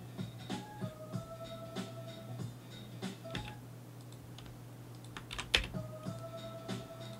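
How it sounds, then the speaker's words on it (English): Someone taps arrow keys on a computer keyboard while chopping beats, giving scattered light clicks at an uneven pace over faint sustained electronic tones in a quiet room. "You can also use the arrow keys on the keyboard left, right to do that."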